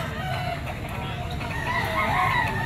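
A Gilmore stag rooster with a straight comb and green legs crows at a busy outdoor pet market at the Grotto, its call rising partway through over a steady crowd hubbub.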